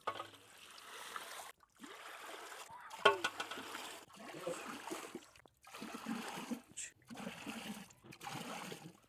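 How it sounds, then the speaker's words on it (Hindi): Water splashes and trickles steadily onto sugar for homemade mango popsicles in a village setting, a continuous close pouring with brief pauses and small clinks. "चीनी जाएगी और डालेंगे पानी"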